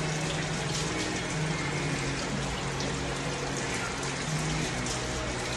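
Water runs steadily from a tap while a dog is wetted down for a bath at home, a continuous close splashing rush with a low pump-like hum underneath and no talk.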